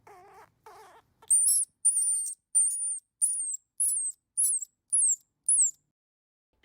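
A baby squirrel: a couple of low wavering squeaks, then a rapid series of shrill, high-pitched cries, about eight in a row, close and piercing.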